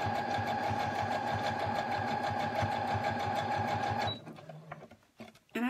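A sewing machine stitching a mitten runs steadily at a fast, even whir for about four seconds, fairly close and alone, then stops, leaving quiet handling noises.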